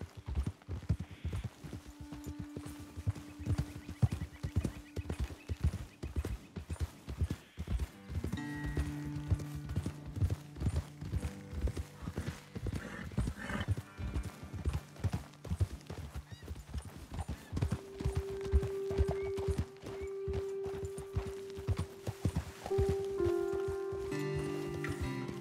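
Horse hooves clip-clop at a steady walking rhythm in Red Dead Redemption 2, a continuous patter of close hoofbeats mixed with ambient game music and occasional horse snorts, with no talking over it.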